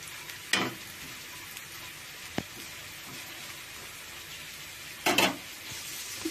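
Bitter gourd pieces frying in a pan, a quiet, steady low sizzle with a couple of brief louder scrapes or clatters, close by and without talk.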